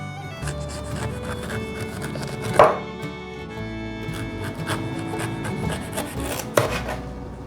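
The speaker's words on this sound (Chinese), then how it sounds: "这样子削比较不会浪费凤梨。" A knife shaves the skin off a fresh pineapple in a kitchen, with repeated scraping and rasping strokes close by and two sharper knocks against the board, steady and unaccompanied by talk.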